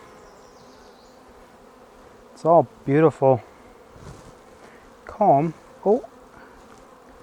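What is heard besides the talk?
honeybees buzzing in an opened hive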